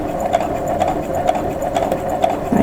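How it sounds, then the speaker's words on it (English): A sewing machine runs slowly while stitching quilt pieces for a pinwheel block, giving a steady mechanical whir with evenly spaced stitch knocks that stays close and constant throughout. "I'm going to go ahead and start my machine. I'm sewing slow so that I can show you how this is going to work."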